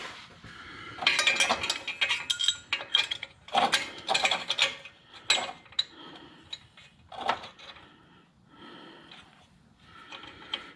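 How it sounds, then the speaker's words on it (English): Metal hose clamps clinking and ratcheting as they are fitted around an adapter joining a cheap exhaust pipe repair, a series of close, irregular clatters and clicks over about ten seconds, fading to lighter taps near the end. "So I'm going to throw a couple of clamps on it."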